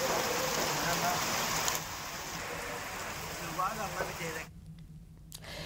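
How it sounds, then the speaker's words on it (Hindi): Heavy rain pouring down in Jhunjhunu, a dense, loud hiss with a low rumble beneath it, which thins out and drops away near the end while a voice talks over it. "पहली तस्वीर में झमाझम बारिश हो रही है जो कि झुंझुनू की है।"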